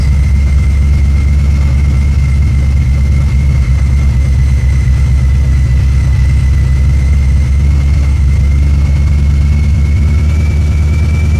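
A 2019 Mustang GT 5.0 V8 with a manual gearbox, fitted with an ESS G3X supercharger, idles loud and close with a steady, even rumble and a thin constant whine riding over it.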